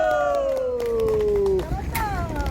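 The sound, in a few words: crowd applauding at a rally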